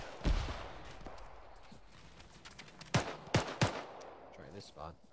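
Scattered gunshots in the ArmA military shooter game, one early report then a cluster of sharp shots near the middle, mixed with faint background noise and a voice.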